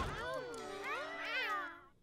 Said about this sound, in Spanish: ¿Cuántos gatos tiene ahora Millie?